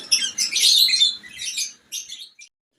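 Bird calls from Lahore-area high-flying pigeons during molting season on a rooftop loft, a few bright chirping bursts close by, with a quiet gap near the end.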